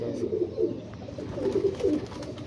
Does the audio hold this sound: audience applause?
no